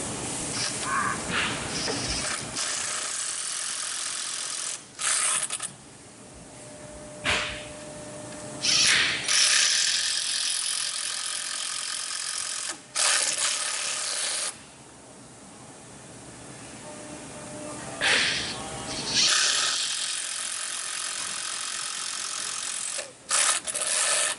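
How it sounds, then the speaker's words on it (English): A ratcheting screwdriver clicks in bursts while screws are driven into a folding window panel being reglazed, with rapid ratchet rattles separated by short pauses, close and fairly loud. "So now you want to take your screws, go ahead and put them in."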